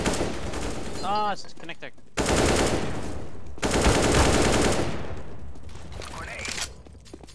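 Gunfire during a playtest of a custom map in a tactical first-person shooter, with dense bursts of shots in two loud stretches while players talk over it.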